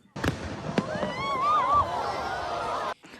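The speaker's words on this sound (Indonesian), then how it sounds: "Kembang api meresap ke udara, meredak memercikan api dan jatuh ke tanah." New Year's Eve fireworks bursting with sharp cracks, followed by whistling, crackling sparks trailing off, fairly loud and close, with a voice speaking over the blasts.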